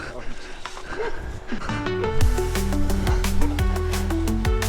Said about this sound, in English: there was a barking dog that you might still hear